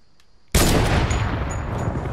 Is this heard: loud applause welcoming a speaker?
no